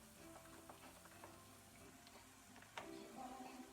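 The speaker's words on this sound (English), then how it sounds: "Now the sausage, you want to crumble it up into the pan when you cook it." Crumbled sausage frying in a pan with softened fruits and vegetables gives a quiet, steady sizzle, with a brief clatter of utensils partway through.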